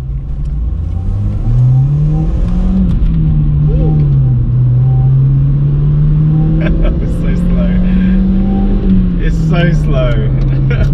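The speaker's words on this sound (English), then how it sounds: "First gear pull." A Honda Civic EP2 pulls hard through first gear, its engine note climbing and holding in a loud, close, continuous drone that eases briefly and rises again toward the end.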